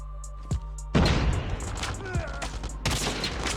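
Gunfire from the Call of Duty Mobile shooter game: several sharp, loud shots and bursts with booming tails, heard close up over game background sounds.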